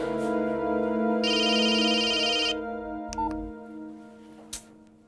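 A phone ringtone plays loud and close, a sustained electronic melodic tone with a brighter burst in the middle, fading out with a couple of short clicks at the end.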